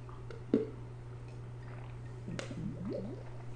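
Mickey's Ice beer gurgles and glugs inside a 40 oz bottle in short bubbling bursts, close and quiet, over a low steady hum.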